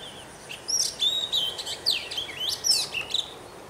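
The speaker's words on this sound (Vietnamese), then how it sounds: "Đấy, mái hót căng luôn này." Recorded female bird song plays from a TKS898 bird-call trapping loudspeaker, a steady run of bright, high chirps and sweeping whistles repeating in quick bursts over a constant hiss, with no voices.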